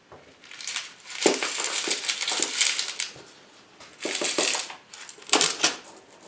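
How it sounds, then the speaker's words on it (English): Pebbles poured and rattled into a pot while repotting a Miltonia regnellii orchid, clattering in several loose bursts with short pauses between, close up. "Some pebbles underneath that new growth."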